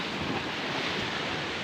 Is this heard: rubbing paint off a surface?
no